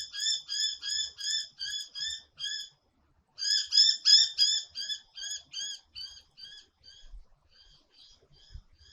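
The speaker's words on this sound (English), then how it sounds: "except for the birds." A bird chirps outdoors in a long series of quick, evenly spaced high calls, pausing once and then fading out, with no other sounds around it.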